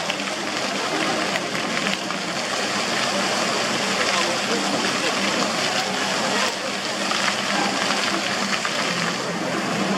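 Water from a musical fountain in Shevchenko Garden, Kharkiv, splashes and rushes as a steady, dense wash, with a faint murmur of crowd voices beneath it.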